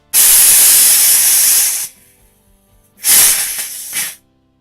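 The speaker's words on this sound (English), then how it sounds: "Inside here is the propellant, in this case CO2, so we'll get rid of that." Loud CO2 propellant hisses out of an opened cylinder in two bursts, one long and one shorter. The cylinder is an HPA refillable cylinder used as a 12g CO2 alternative. There is near silence between the bursts.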